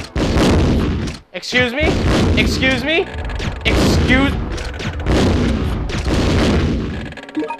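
Gunfire in the Resident Evil Survivor video game, loud repeated shots and booms in dense bursts mixed with game sound, while a player talks over it.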